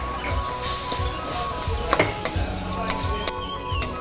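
Spices and tomatoes frying and being stirred in a pan for chicken biryani, a steady sizzle with scraping spoon strokes and occasional clinks against the pot, close and continuous.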